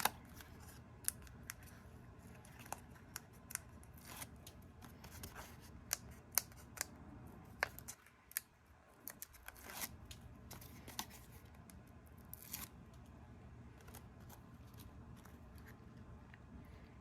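Scissors cutting paper strips for a handmade craft card, heard as a series of sharp, close snips spread irregularly across the quiet, with a brief lull midway and no speech.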